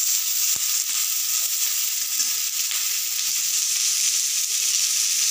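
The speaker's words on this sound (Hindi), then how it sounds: "सब्जी हमारा भुना रहा है अभी, इसे और हम थोड़ी देर तक भूनते हैं।" Mixed vegetables for a sabji sautéing in a pan, giving an even close sizzle throughout with one sharp tap of a utensil early on and no voices.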